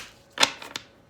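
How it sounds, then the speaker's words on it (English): Tarot cards are pulled from a deck, giving a few quick, crisp card snaps and slides up close, three short bursts against a quiet background. "I'm going to pull these cards on camera."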